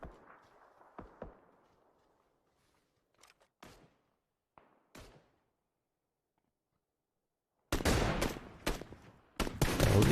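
Sharp bolt-action sniper shots from the battle royale game PUBG in a competitive tournament match, a few isolated loud cracks early on, then a dense burst of rapid gunfire near the end.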